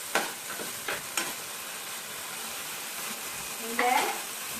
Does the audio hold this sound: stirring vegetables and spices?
yes